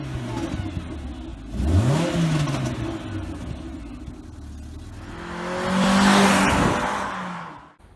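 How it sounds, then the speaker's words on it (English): A Renault Clio with a 2-litre naturally aspirated engine revs hard twice, rising in pitch each time, with a tyre squeal and steady engine drone between the pulls, close and loud with no talking. "the Clio is powered by its 2-litre naturally aspirated engine, which gives it 197 brake horsepower"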